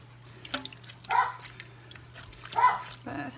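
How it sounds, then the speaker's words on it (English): A dog barks in a garden, two or three distant barks over a low steady hum and faint rustling. "there goes my dog."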